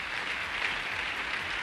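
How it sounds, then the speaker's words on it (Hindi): An indoor audience at a business seminar claps in a dense, steady round of applause, many hands together at moderate volume, with no speech over it. "ताली ऐसे बजा रहे हो जैसे सबको 2 लाख आ रहे होंगे"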